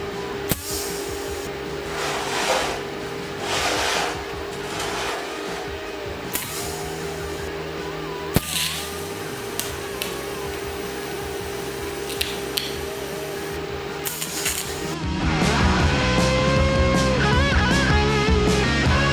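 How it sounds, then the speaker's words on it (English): Rear suspension parts of an AWD-converted Chevy Cruze being welded together: a close, steady crackling hiss in long bursts with sharp pops, shifting to a denser, louder noise near the end. "I'm gonna weld this thing together"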